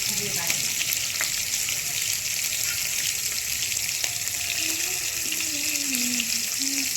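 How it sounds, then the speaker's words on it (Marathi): Paneer fries in a pan with a steady, close sizzle that runs throughout, joined by occasional stirring scrapes and faint kitchen clatter in a home kitchen. "चला मग मी तळून घेते हा पनीर"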